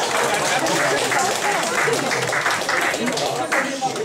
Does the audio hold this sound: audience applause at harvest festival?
yes